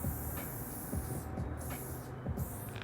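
A Flame spray paint can laying down a graffiti line, giving a steady close hiss broken by short pauses and bursts as the nozzle is pressed and released.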